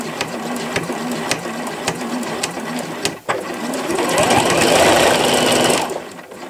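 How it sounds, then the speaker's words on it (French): A sewing machine backstitches over a ribbon on a Christmas stocking. It whirs loudly and close in steady stitching runs, with a brief stop midway and then a denser, sustained burst. "repasse 2 fois sur le ruban en faisant point arrière."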